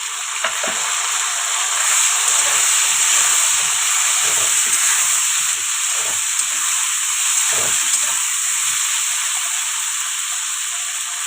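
Tomato dropped into hot oil alongside fried taro, a loud steady sizzle and hiss close up, with occasional stirring clatter and no voices.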